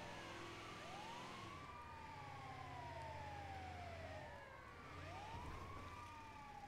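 Wailing video game sirens sweep up and down in overlapping cycles over a low engine hum, steady and fairly loud throughout with no talking.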